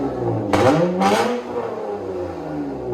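A 2007 Acura TL Type S with a 1.5-inch straight-piped exhaust revs loudly twice in quick succession, then settles back to a raspy, close idle.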